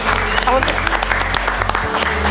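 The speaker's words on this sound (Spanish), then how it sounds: "vamos a darle un aplauso al senador" People applaud a senator at a public event in brief, lively clapping under a speaking voice, with the clapping dipping and swelling over a couple of seconds.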